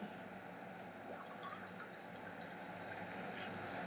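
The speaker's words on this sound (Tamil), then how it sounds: "ஒரு கிளாஸ் அளவுக்கு தண்ணி ஊற்றியாச்சு" Water poured into a glass to make a juice, a steady close trickling fill that runs continuously for a few seconds with no speech over it.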